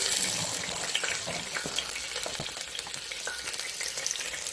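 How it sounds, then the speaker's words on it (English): Onions and garlic frying in hot oil, a bright steady sizzle with crackles and occasional stirring scrapes, close and alone. "Now that my oil is ready, time for me to put the onions and garlic"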